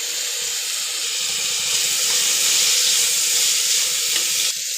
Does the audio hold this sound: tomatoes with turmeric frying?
yes